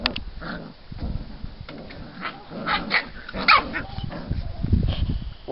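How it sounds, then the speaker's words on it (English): Young puppy wrestling with a man's pant leg, giving several short, scattered barks and yips close by over a background of rustling and movement. "a pup decided that Fritz's pant leg made a very good toy to wrestle with"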